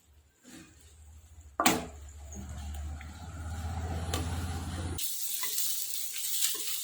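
Okra and potatoes for bhindi aloo sizzling in a pan, a steady frying hiss that swells after a clatter and grows louder and brighter toward the end.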